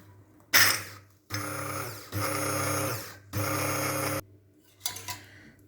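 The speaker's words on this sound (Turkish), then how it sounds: "Önce bir parçasını bu şekilde blenderdan geçirelim." A blender breaks down pomegranate in a kitchen with several loud whirring bursts, each lasting about a second, separated by short pauses and ending with a final brief pulse.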